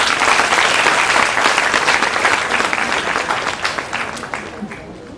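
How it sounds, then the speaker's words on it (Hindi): Sustained audience applause at a talk on career and life clarity, loud, dense clapping from a crowd that holds steady for several seconds before gradually thinning. "एक बार ताली बजा दो इसके लिए."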